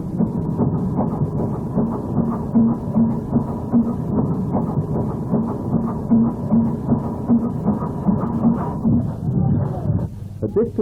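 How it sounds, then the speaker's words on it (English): Two coupled BR Standard steam locomotives at Rugby Midland give a steady, loud rumbling drone with a continuous mechanical roar and faint rhythmic clatter that thins out near the end. "you see two BR standard locomotives coupled together"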